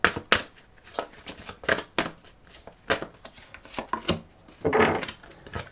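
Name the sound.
tarot cards being drawn and laid out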